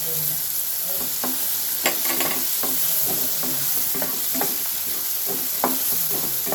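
Tomato, crushed garlic and curry leaves sauté in a pan for radish masala, giving a constant close sizzle broken by frequent, irregular scrapes and clicks of stirring.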